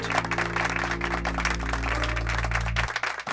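An audience in a hospital applauds, a dense burst of clapping over a loud steady low hum that cuts off near the end, with the clapping continuing briefly after.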